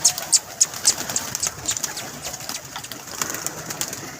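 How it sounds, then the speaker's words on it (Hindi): A pigeon comes down to land outdoors, with a series of short sharp wing claps and flutters, moderately close, over faint background noise and no talking. "लो जी कबूतर एक उतर आया नीचे"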